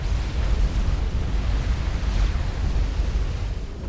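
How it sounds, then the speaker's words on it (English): A nuclear explosion in the real-time strategy game Supreme Commander: Forged Alliance rumbles as a loud, sustained low roar with crackling bursts, heavy bass filling the whole stretch without speech. "both megas are at sufficiently low health that they are taken out by the nuclear explosion"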